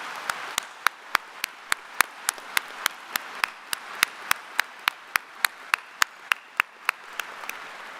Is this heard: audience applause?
yes